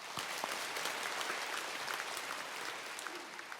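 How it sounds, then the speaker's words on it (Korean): A church congregation claps together in a continuous, fairly soft and distant roll of applause, steady throughout with no voices standing out. "우리 하나님께 우리 영광의 박수를 올립니다."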